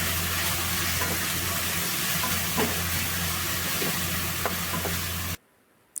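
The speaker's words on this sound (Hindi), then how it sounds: "इसको सुनहरा होने तक हम फ्राई कर लेंगे।" Onion masala frying in hot oil with cumin seeds in a kadhai gives a steady, close, dense sizzle that runs unbroken for about five seconds and then cuts off abruptly.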